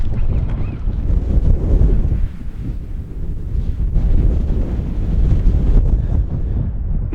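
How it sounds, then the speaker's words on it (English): Mountain wind in a remote lakeland area buffets the microphone with a steady, loud low roar that swells and eases in gusts throughout, with no voices over it. "Definitely getting a bit windier."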